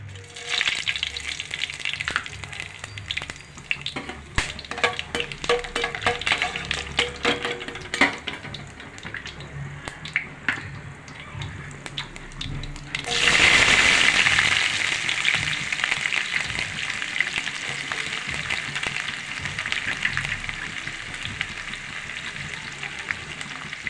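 Onions frying in hot oil for brinjal curry, a steady close sizzle with stirring clatter that surges louder midway as more goes into the pan, no talk.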